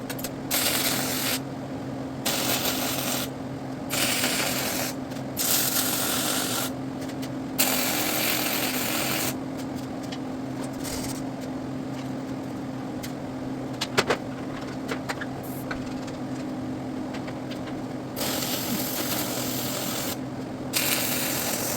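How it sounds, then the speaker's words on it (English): Arc welding of bow tie weld plates into a Toyota 4-cylinder axle third member, producing steady, close crackling hiss in long bursts separated by brief pauses as each weld is laid, without any speech. "as soon as you start welding. Here we go."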